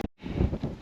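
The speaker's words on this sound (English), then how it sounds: "it's windy up here" Wind gusting across an exposed hilltop near Cooktown in Australia, a broad rushing buffet on the microphone that follows a brief near-silent gap and stays steady and close.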